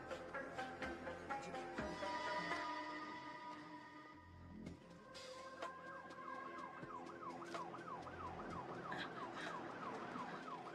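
An ambulance siren wails in an action movie scene, first under a busy mix of traffic and street noise, then rising into a clear, repeating up-and-down wail that holds steady to the end.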